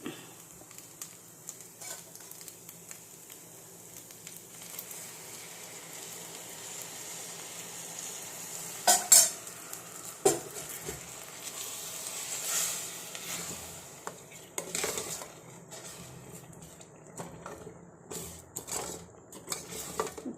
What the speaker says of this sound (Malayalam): ഇതിലേക്ക് നമ്മുടെ പാനി ഒഴിച്ച് കൊടുക്കണം